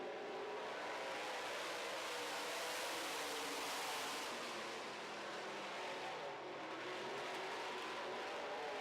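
Late model race cars roar around a track after the green flag, a dense, continuous engine drone heard from a distance that swells and eases slightly as the pack moves.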